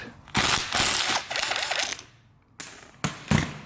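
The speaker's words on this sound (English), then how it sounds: "Hit it with a little mini impact." A mini impact wrench drives an older nut down a thread on an Audi project car, rattling in one long burst of about a second and a half, then two short hammering bursts after a pause, close and fairly loud.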